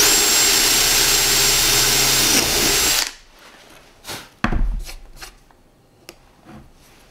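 An HSS wood drill bit bores through a knot in wood, a loud, continuous power-drill whine for about three seconds that then cuts off, followed by a few quieter knocks and handling noises.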